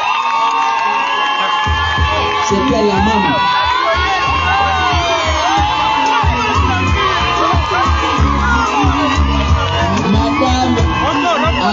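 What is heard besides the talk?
wedding crowd applauding and cheering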